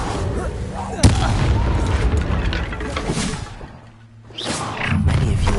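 The Incendio fire spell in Hogwarts Legacy on PS5 goes off with a sharp burst and a rushing whoosh of flame, then a sustained roar that dips briefly before another blast flares up.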